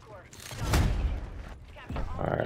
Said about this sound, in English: Let me bring my submachine gun out.